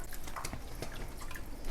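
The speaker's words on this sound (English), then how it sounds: "we are gonna add some chicken stock just to make this a little bit more soupier" Chicken stock poured directly into a pot of beer, cheese and potato soup, a steady close liquid splashing and dripping with no talk.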